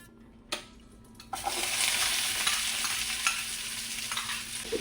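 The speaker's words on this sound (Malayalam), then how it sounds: "ഉള്ളി ഇട്ട് കൊടുക്കാം" Onion dropped into two to three spoons of hot oil for egg roast, with a quiet lead-in, a couple of knocks, then a sudden loud hiss that settles into a dense, steady close sizzle.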